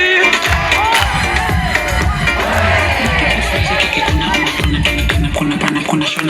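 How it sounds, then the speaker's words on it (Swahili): Audience at a Kenyan gospel show cheering and shouting, a loud lively crowd roar with whoops and scattered voices over a thumping low background, sustained throughout. "Makofi."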